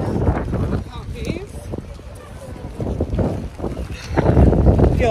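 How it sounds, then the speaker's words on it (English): Strong wind buffets the microphone on a Paris street, gusting in rough waves that swell and ease, with women chatting over it. "No, it's just windy."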